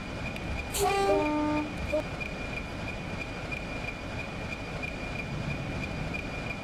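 A train runs toward a tunnel on a long climb, with a short horn toot near the start over a steady, moderately loud rolling rumble that continues throughout.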